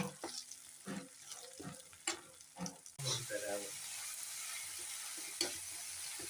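Marinated pepper chicken sizzles on a flat tava, a continuous hiss rising after a few sharp clicks and a voice in the first half, with occasional taps of a spatula.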